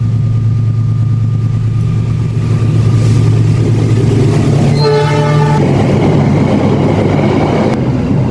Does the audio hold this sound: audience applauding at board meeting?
no